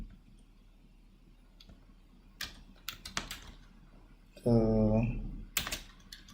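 C# code being typed on a computer keyboard: scattered close key clicks and short bursts of tapping, interrupted by a brief spoken word in the middle.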